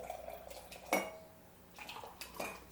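A spoon clinks against a cup while stirring ginger powder into water, with a sharp ring near the start and a couple of softer taps after a short pause, close and fairly quiet.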